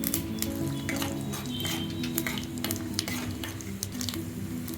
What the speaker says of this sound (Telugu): నూనె తాగినాక ఆవాలు మినపప్పు జీలకర్ర పోపు దినుసులు వేసేసాం